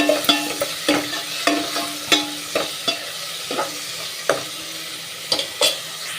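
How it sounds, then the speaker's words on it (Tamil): Tomatoes sautéing in a hot pan for an omelette egg curry, a steady sizzle broken by regular scraping strokes of a spoon stirring them, close and clear with no talk. "தக்காளி போட்டுட்டு அதையும் வதக்கணும்"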